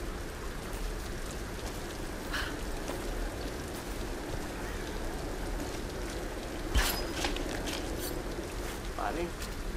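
Steady heavy downpour in the Tomb Raider (2013) game, a dense wash of falling rain and scattered drops running throughout with a few brief louder splashes or rustles, while a voice talks over it.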